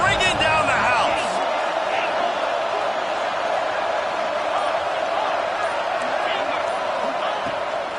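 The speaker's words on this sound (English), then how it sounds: "this crowd is bringing down the house" Stadium crowd in a Madden/NCAA football video game roars steadily through a third-down play, a loud sustained wash of cheering with a brief burst of whoops at the start.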